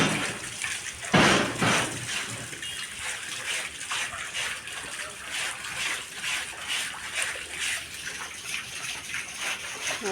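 Rainwater trickles and drips down from a roof after a night of rain at a Kutch family home, a soft continuous dribble with a sharper splash near the start and scattered patters throughout.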